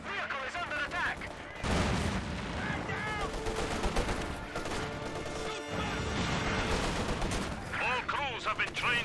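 Battle gunfire in the Company of Heroes 2 strategy game, with continuous loud machine-gun bursts, rifle fire and impacts crashing over each other for the whole stretch while a voice talks underneath.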